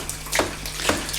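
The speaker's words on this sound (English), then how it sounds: "I turn the tap on to get fresh water going through" Running tap water during black and white film processing, a steady rushing flow with a couple of brief splashing surges, close and alone without talk.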